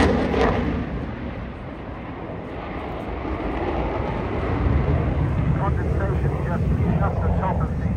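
A military jet pulls up to 9 G in a tight display turn during a Battle of Britain fly-past, its broad engine roar steady and loud across the whole stretch, with faint talk underneath.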